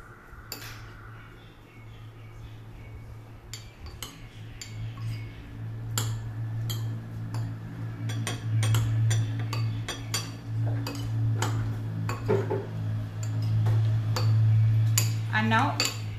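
A spoon clinks and scrapes against a bowl as a quiche filling with chili flakes, cumin and salt is mixed, in quick irregular knocks over a steady low hum, with voices talking now and then.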